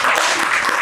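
A classroom of students at a PCB repair training course claps for their teacher, giving a short, loud, dense burst of applause.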